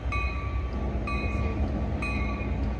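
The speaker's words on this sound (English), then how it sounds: "Oh, steel bell on that train." A Caltrain locomotive's steel bell rings at a Santa Clara station, three evenly spaced clear metallic strokes about a second apart over the steady rumble of the train.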